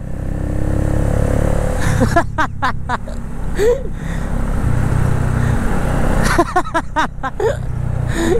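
A motorcycle rides along a bumpy, potholed road with a steady engine drone and rumbling wind. Clattering bursts of voice-like noise come through twice, and the sound stays loud and close throughout.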